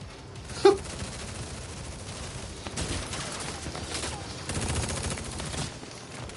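Gunfire in Tekken 7 story mode comes as a sharp burst near the start, followed by a rattling fusillade and bursts of shots later on. A player's voice talks intermittently over the game audio.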